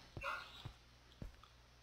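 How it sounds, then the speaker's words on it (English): In a Minecraft game, a few short, faint dog barks come from a distance, three separate yaps spaced out over a quiet background. "Can you hear the dog barking in the background?"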